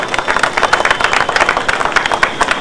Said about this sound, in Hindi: इनके इस सहयोग के लिए बच्चे बच्चियों के लिए एक बार जोर से तालियां